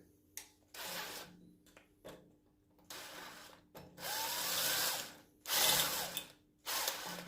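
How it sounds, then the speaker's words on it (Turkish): Electric drill with a number 4 bit boring into metal to extract a broken screw, whirring in several bursts, starting and stopping repeatedly, fairly close, with short quiet gaps between each run. "4 numara bir matkap ile"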